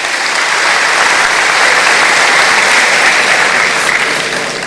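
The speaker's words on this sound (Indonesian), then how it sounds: "Tepuk tangan dulu." An audience claps steadily in a dense, loud round of applause at a talk, sustained evenly throughout with no pauses, filling the room alone.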